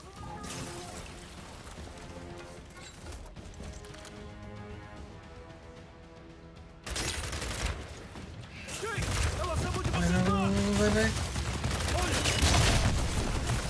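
Rapid gunfire from weapons in the shooter video game Gears 5, with sustained bursts and mechanical clatter running continuously and growing denser toward the end, loud and busy throughout.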